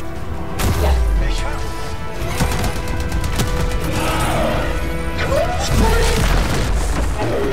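A heavy boom and crashing explosion rumble up front in the video game Anthem, followed by clattering debris and chaotic game noise with a voice speaking over it.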